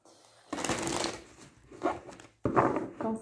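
Tarot cards are shuffled by hand in two or three brisk bursts of papery riffling and flicking, close and clear, with a short pause between bursts.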